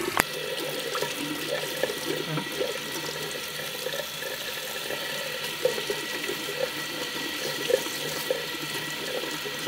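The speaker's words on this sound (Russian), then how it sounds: "Мы, наверное, его все-таки погрузим в воду." Warm water runs and splashes steadily as a wilted, limp potted plant is submerged in it, a continuous moderately loud flow like a tap filling a basin, with no voices.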